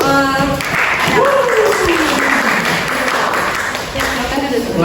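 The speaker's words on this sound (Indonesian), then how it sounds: "Tepuk tangan dulu untuk kelompok" Classroom of students in an Islamic school clapping for a group after a presentation, steady loud applause throughout with voices and chatter mixed in.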